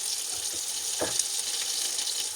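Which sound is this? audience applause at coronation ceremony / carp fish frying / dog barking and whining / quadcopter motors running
carp fish frying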